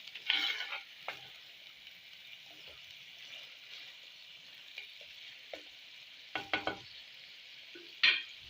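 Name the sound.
mutton trotters (paya) frying and being stirred in masala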